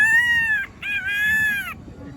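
A man blows on a leaf to imitate a peacock call, giving two loud, shrill, wavering whistled cries with a short break between them.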